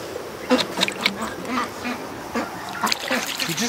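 A duck at a lake quacks in quick, raspy bursts close by, over a steady buzzing outdoor background.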